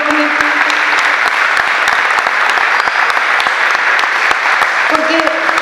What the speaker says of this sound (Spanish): Otro aplauso para Jorge.